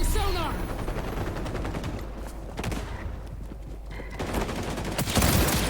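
Rapid pistol fire from Sam Fisher's gun in the XDefiant shooter game: dense, loud, sharp shots in quick succession with other gunfire and game sounds, and talk faintly underneath.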